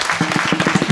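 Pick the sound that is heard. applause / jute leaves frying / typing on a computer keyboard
applause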